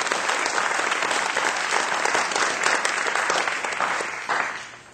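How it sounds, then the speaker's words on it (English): Enthusiastic audience applause at a senior music recital, dense sustained clapping from a seated crowd that holds steady for several seconds and then begins to fade at the end. "I think we should give him a round of applause"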